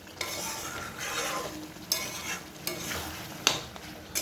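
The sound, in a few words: sautéing potatoes in spiced oil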